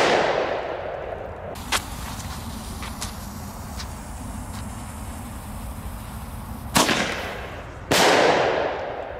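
Thunderking firecrackers go off in a few sharp, loud bangs outdoors, one early crack followed later by two big blasts close together, with crackling and scattered pops between them.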